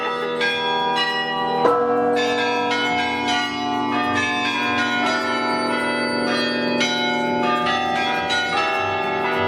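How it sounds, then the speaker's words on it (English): Several tower bells ring continuously in overlapping peals, resonant and rich, sustaining throughout with no talking. "here are the bells ringing every quarter, I think"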